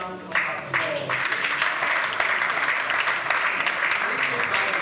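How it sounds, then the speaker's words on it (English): An audience applauds for Asbon at a live news event: a brief voice opens, then a full burst of clapping from many people swells in and carries on steadily for several seconds. "can we give Asbon an outstanding round of applause?"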